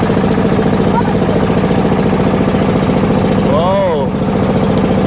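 A speedboat engine on a river in Banjarmasin, Kalimantan drones steadily and loudly throughout, with a brief warbling tone rising and falling over it near the end.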